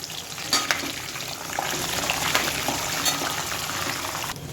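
Curry leaves fry in oil over a low flame for tamarind pulihora, making a continuous crackling sizzle with some stirring, moderately close and with no one talking.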